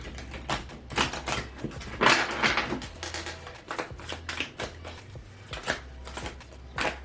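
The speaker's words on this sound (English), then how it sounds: "I'll go ahead and give it one last riffle here" A deck of tarot cards is riffle shuffled in a series of quick, crisp bursts of fluttering card flicks and taps, close up and without speech.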